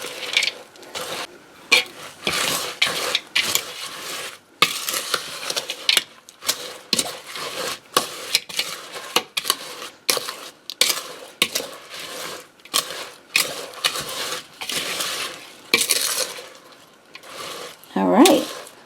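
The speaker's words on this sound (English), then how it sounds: "I'm using chopped pecans. And we're just going to fold this in." Chopped pecans being folded into thick pecan pie bar batter in a bowl, a repeated scraping, crunching stir in irregular strokes, close and fairly loud, with a voice talking at times.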